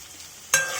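Curry leaves, green chillies and chopped onion land in hot oil, setting off a sudden loud sizzle that keeps crackling steadily after a quiet start.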